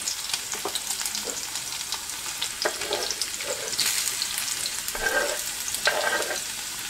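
Chopped garlic and ginger fry with browned cumin in a pan, giving a loud, steady sizzle with occasional scraping stir strokes and no talking.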